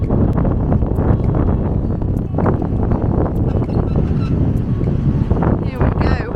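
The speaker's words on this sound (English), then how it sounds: "Whoa, the wind, it might be a rocky journey." Strong wind buffets the microphone during a cable car ride to Bere Island, making a loud, continuous rumbling roar with gusty swells from start to finish.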